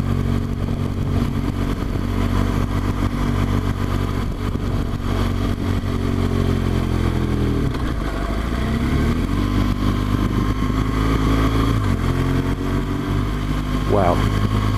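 BMW R1200GS motorcycle climbing Kirkstone Pass in low gear, its engine droning loud and steady throughout with pitch rising and dipping as revs change, wind rushing over the mic.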